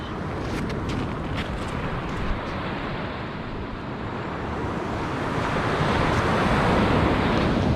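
Sea waves wash steadily onto a beach at Easington during shore fishing, a broad continuous rush of surf with wind noise on the microphone that swells louder toward the end.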